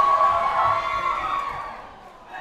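A wrestling crowd at the Mangere Arts Centre in Auckland, at an NJPW event, keeps up a loud sustained roar of cheering and shouting that swells early and eases off, with a brief lift at the end.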